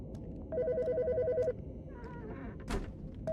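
A phone rings in Autopsy Simulator, a steady electronic ringtone pulsing for about a second, then stopping. Other game sounds and a brief sharp burst follow, with no talking.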